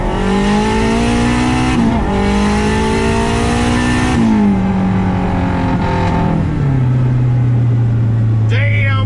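A 500-horsepower turbocharged K24 car pulls hard on a street, the engine rising through rev sweeps with gear-change dips, loud and close from inside the cabin.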